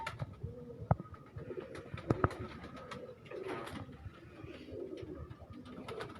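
Breeder pigeons in a loft setup coo repeatedly at close range, with soft wing flutters and a few sharper knocks mixed into the steady chorus of calls.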